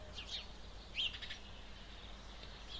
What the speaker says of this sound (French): Attentif au chant des oiseaux.